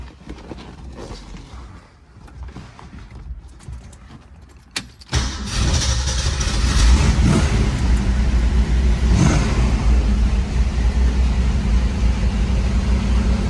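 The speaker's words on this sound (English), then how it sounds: "Let's get in it, fire it up. I'll let you guys hear it run, because this one runs strong." A 1967 Shelby GT500 with a 428 V8, four-speed and transverse muffler starts up: a quiet interior lead-in, then a sudden crank and catch into a loud, steady, rumbling idle that holds to the end.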